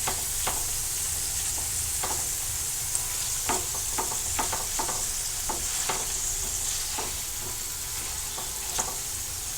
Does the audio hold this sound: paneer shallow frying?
yes